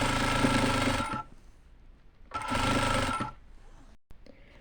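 Sewing machine stitching decorative trim onto fabric runs in two steady, buzzing bursts of about a second each, separated by a pause with faint handling noise, close by and with no one talking.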